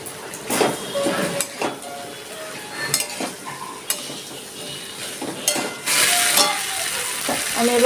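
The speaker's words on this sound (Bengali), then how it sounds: "এবার ভাজা কচুর গাঁটিটা আমি এর মধ্যে দিয়ে দিচ্ছি।" Fried taro pieces go into a pan of sizzling spices, including Kashmiri chilli powder, and crackle at a moderate level under repeated spoon clinks and stirring scrapes against the pan.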